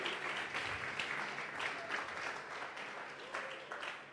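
A church congregation applauding together during a service, a dense, steady wash of clapping that holds for several seconds with a faint voice underneath.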